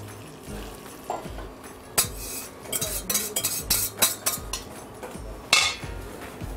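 A whisk stirring hot cream and honey into chocolate to make ganache, with quick, irregular metallic clinks and scrapes against the bowl, close and fairly loud, with no talking.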